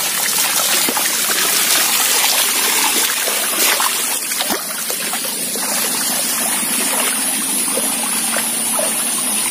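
A river stream flows through a village, a loud, continuous rushing and trickling wash of water close by with no pauses.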